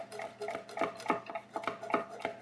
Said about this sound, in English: And then we're just going to slice them up